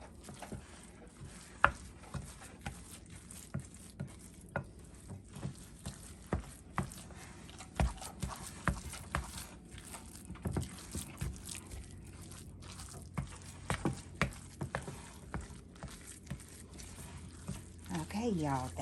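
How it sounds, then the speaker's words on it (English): Ham salad sandwich spread being stirred in a bowl, with soft irregular scraping and patting strokes repeating steadily at close range, fairly quiet, and no talking over them. "Mix that up well."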